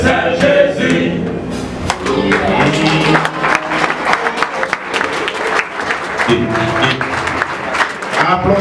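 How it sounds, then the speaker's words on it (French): An audience applauds at a live event, with dense, loud clapping from many hands that swells and carries on continuously, while voices rise over the clapping. "Applaudissez, s'il vous plaît."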